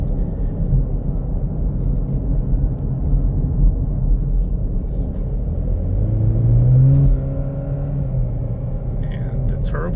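Low engine rumble from a Chevy Camaro muscle car on twisting hill roads, heard from inside, rising briefly as it accelerates with a swelling tone, then easing, under steady road noise.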